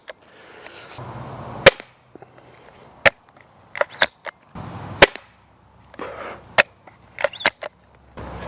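Sharp snapping shots from a pistol crossbow and an air pistol fired at a target, about a dozen crisp cracks spaced irregularly over several seconds, with quieter handling noise between them.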